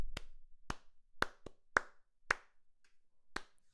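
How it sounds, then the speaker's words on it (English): Hands clap out a sharp rhythm of about eight crisp claps with uneven spacing, close and clear against a silent background. "if I'm clapping rhythm A,"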